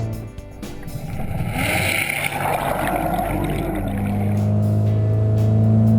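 A 2011 Doral 185 Sunquest bowrider's engine rises in pitch and builds in loudness as the boat accelerates out of the hole, with water rushing along the hull and a steady droning hum growing stronger.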